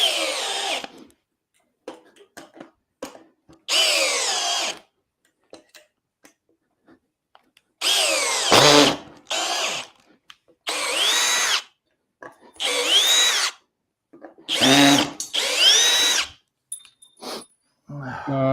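Milwaukee and Dewalt 12V cordless drills whirring in repeated bursts as they drive screws into wood, a series of loud close runs separated by pauses, with brief voices in between.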